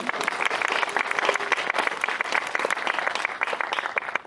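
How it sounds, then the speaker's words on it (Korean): Dense audience applause at a film screening Q&A event, many hands clapping in a continuous loud wash close to the microphone. "박수를 한번 다시 부탁드릴게요"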